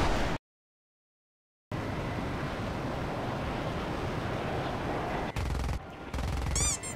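Rapid aircraft gunfire in the War Thunder video game, heard as a dense, continuous loud rattle running for several seconds after a brief silent gap, ending with short separate bursts.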